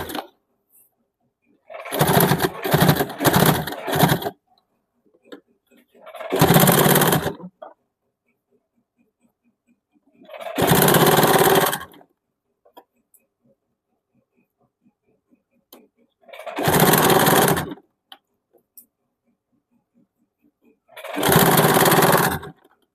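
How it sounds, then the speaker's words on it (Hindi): A sewing machine stitches a strip onto a blouse neckline in short separate bursts: several quick runs at first, then four longer whirring passes spaced by pauses, close and clear. "पट्टी के ऊपर ही हम लोगों को मशीन चला देना है"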